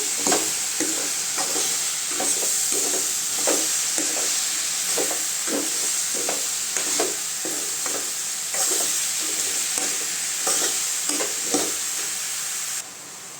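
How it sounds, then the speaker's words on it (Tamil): Mushrooms fry in a pan for kuzhambu and get stirred steadily, with regular scraping strokes over a constant loud sizzle and hiss and no voices. "அடுத்து காளான் சேர்த்துக்கலாங்க நல்லா கிண்டி விடலாங்க"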